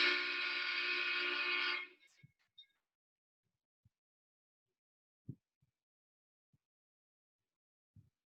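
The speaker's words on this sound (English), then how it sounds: "Train." A train horn sound effect gives one loud, steady, sustained blast of about two seconds, then cuts off to near silence broken by a few faint, scattered clicks.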